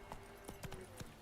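Horse hooves clip-clopping in The Witcher 3, a few spaced, fairly faint hoofbeats over a low game background hum, with a brief voice mixed in.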